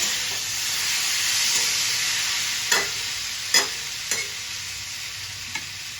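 Pointed gourd and potato are stir-fried in a pan, giving a steady close sizzle broken by a few sharp scraping strokes of the spatula.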